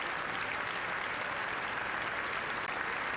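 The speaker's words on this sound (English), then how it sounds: "To sustained applause from those invited, some 200 people" Sustained applause from about 200 invited guests, senior members of Congress among them, at the presidential inaugural lunch in Statuary Hall, a dense, steady clapping that fills the room for the whole stretch without a break.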